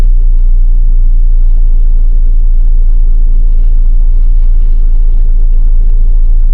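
A 4x4 vehicle's engine runs steadily with a deep, constant low rumble, loud and close, with no voices over it.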